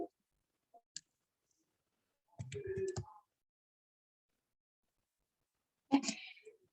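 Keys on a computer keyboard tapped in short scattered bursts, a few isolated clicks then a quick cluster, with long quiet gaps between, close and fairly faint.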